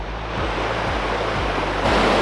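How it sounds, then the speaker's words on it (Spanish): Waterfalls cascading down the canyon walls along the Río Macho de Monte in Chiriquí, Panama, give a steady, broad rushing roar throughout. It grows slightly louder near the end, and no voices are heard. "Aquí vemos las cascadas a las orillas de las paredes."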